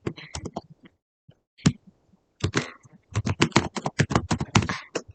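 Password being typed on a computer keyboard during an account settings change, heard as clustered bursts of crisp key clicks separated by short pauses, fairly close and alone with no talking.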